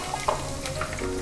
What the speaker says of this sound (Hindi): इसको डिप करेंगे, इसको हम हॉट ऑयल में डाल